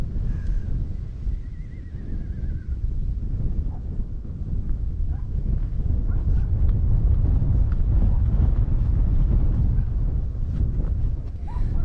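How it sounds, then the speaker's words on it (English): Strong outdoor wind buffets the microphone with a steady, loud low rumble that persists throughout, with no voice heard. "The wind is strong enough to push me around today"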